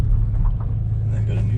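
Low, steady engine rumble from a manual Scion FRS as it slows toward a stop, heard from inside the cabin, with a broad drone filling the short stretch.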